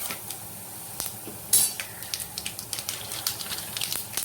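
Chana dal lightly frying in oil in a pan, a soft continuous sizzle with occasional stirring scrapes and light ticks, quiet and close with no voices.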